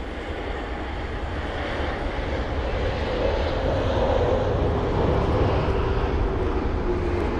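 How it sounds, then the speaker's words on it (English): A Delta jet arrives at London Heathrow on flight DL20 from Seattle during stormy weather, its engines a loud, steady roar that swells slightly as it passes, with no voices. "Amazing, that was the Delta jet for you."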